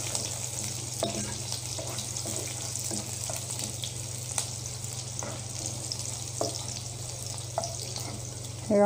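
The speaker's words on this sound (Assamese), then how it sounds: "পিঁয়াজটো ৰঙচুৱাকৈ অলপ ভাজিম।" Onions frying in hot oil with bay leaves and dried red chillies, a steady broadband sizzle running throughout with occasional clicks and scrapes of a spatula against the pan, alongside a faint constant low hum.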